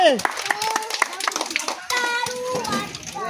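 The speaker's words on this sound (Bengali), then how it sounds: "সবাই আব্দুল আজিজ জন্য হাততালি" Children clap scattered, uneven claps for a prize winner at the final of a leaf-challenge game. Excited kids' voices chatter over and between the claps.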